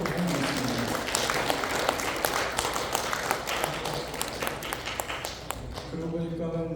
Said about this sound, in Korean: 우리 박수 부탁드리겠습니다.